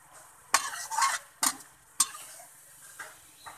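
Village chicken laab being stirred in a pan, a few distinct scraping and tossing strokes spaced irregularly over a quiet background, close and without talk.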